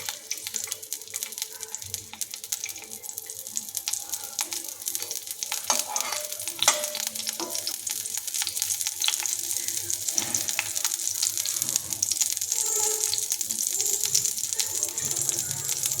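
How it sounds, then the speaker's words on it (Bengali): Chopped garlic frying in hot oil in a wok, with a continuous close sizzle that grows slightly louder as it goes, plus occasional scrapes and clinks of stirring. No one speaks. "তেলটা গরম হলে প্রথমে আমি রসুন কুচিটা দিয়ে দেব।"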